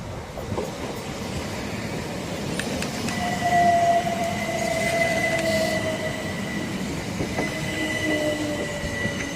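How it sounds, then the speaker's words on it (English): Southeastern passenger train, a class 375 unit, pulling into Swanley station: a steady rumbling roll with wheel clatter and thin high-pitched brake and wheel squeals as it slows, close by and continuous. "And now pulling in is the 1548 Southeastern service from London Victoria to Canterbury West"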